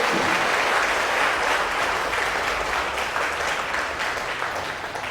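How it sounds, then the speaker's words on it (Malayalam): A church congregation at a retreat claps hands in praise, a sustained wash of many hands clapping together that fades slightly toward the end. "ഒന്ന് കൈയടിച്ച് കർത്താവിനെ മഹത്വപ്പെടുത്തിയേ"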